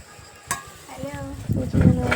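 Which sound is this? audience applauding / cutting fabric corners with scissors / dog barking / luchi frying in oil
luchi frying in oil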